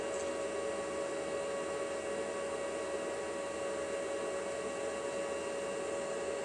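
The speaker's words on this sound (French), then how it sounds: "Donc ce bruit que vous entendez là," A constant electrical whir with a steady tonal hum from a solar inverter's cooling fan, running continuously at a fixed pitch, unchanging throughout.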